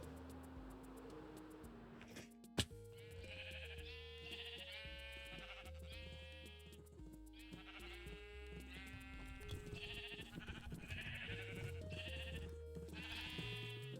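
Minecraft sheep bleat repeatedly in short, wavering calls, layered over a steady synthesized musical backdrop with a sharp click partway through.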